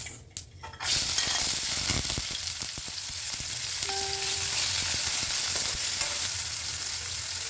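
Whole cumin seeds and onion dropped into hot oil for a pork dish, a loud continuous close sizzle that surges after a brief clatter and holds steady, with no talking.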